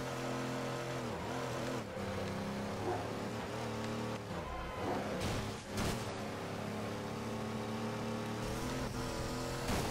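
A Cadillac Sixteen races in the video game Midnight Club 3, its engine droning steadily and loudly with shifting revs throughout, plus brief dips and passing traffic noise.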